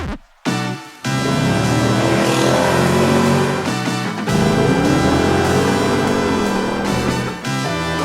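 A muscle car's 6.2-liter LT1 V8 revving loudly up close, a brief quiet start giving way to a sustained roar with rising and falling engine pitch and short dips between pulls.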